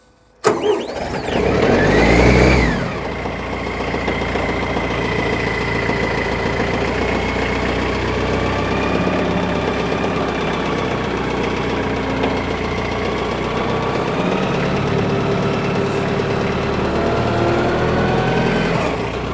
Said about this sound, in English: So if we start the tractor,